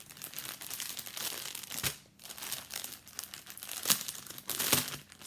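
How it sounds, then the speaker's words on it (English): Packaging rustles and crinkles as craft supply packets for cross-stitch embroidery are opened and handled, with sharp crunching bursts over a steady, close crinkling texture and no talking. "Excuse the rustling."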